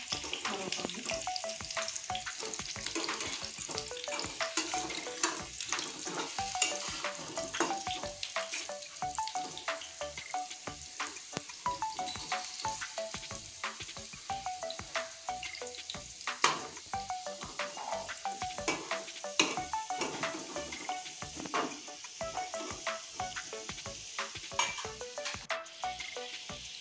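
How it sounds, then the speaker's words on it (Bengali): Jackfruit fritters deep-frying in hot oil alongside potatoes, a long continuous bubbling sizzle dense with small crackles and occasional scraping clinks of a utensil, steady and close throughout. "একদম লাল করে আমি ভেজে নিয়েছি"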